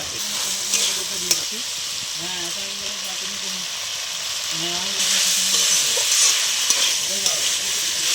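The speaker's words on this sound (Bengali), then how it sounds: "ভালো করে কষিয়ে নিতে হবে। তার ভাজা আলু আর গাজরটা দিয়ে দিলাম।" Ginger, peas, fried potato and carrot stir-fried in a pan for cauliflower dal, a steady close sizzle with scraping stirs throughout and a voice talking over it.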